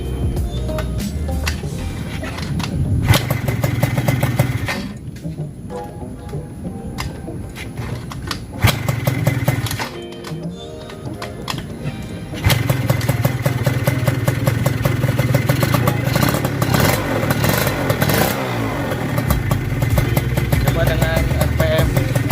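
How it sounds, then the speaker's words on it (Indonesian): A Sanex Hussar two-stroke automatic scooter with a racing exhaust starts and runs close by, its buzzy rattling engine revving up and dropping back several times before holding at high RPM. "daripada kita penasaran dengan suara knalpot racingnya ini, yuk kita coba nyalain."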